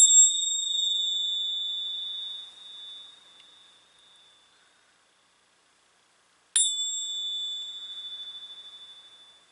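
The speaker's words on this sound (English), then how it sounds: "there's going to be 3 dings, hopefully pleasant, but if you're wearing headphones, just be mindful, it might be loud" Two clear, bright chime dings ring out alone in silence, each struck sharply and left to decay slowly, the second arriving after a long pause.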